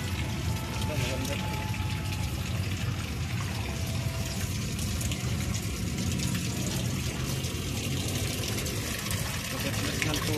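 Water runs steadily from a garden tap among potted plants, a continuous splashing rush at close range with voices talking over it throughout.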